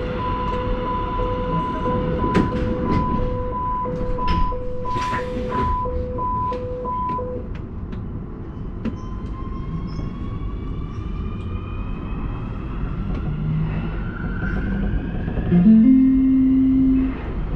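A Nuremberg U-Bahn U2 subway train runs toward the airport, with a steady rumble and rising motor whine throughout, after a station chime sequence, and a brief loud screech near the end.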